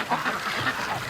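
Muscovy ducks on a free-range duck farm taking off, heard as a brief burst of soft quacking and wing flutter at close range, a few faint calls overlapping within about a second with no speech.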